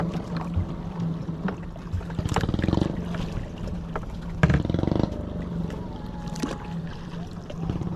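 Steady low engine drone of a boat out at sea off Surigao, with wind and splashing throughout and a few thumps from the hull.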